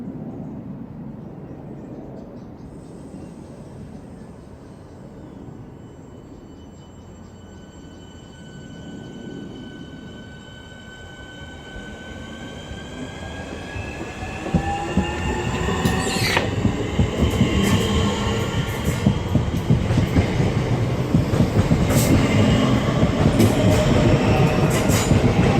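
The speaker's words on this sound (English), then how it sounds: "1635 Southeastern service from Slade Green to Cannon Street." A Southeastern electric train departing Charlton station, opening with a rising motor whine and then growing into loud, close rumbling wheel and rail clatter.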